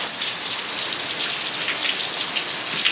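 Heavy rain pouring down outdoors, a loud, steady hiss of drops striking surfaces without letup and with no voices.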